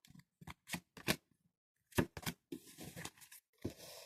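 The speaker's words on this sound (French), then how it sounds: "je vais de nouveau repositionner 3 cartes" Tarot cards handled at a reading table, a few quick close flicks and slaps followed by a brief rustling shuffle and more soft card snaps, quiet and without talk.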